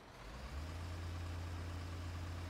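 MAN truck engine idling in the Construction Simulator 2015 video game, a steady low diesel drone that settles into an even, continuous hum after a brief start, with no voices over it.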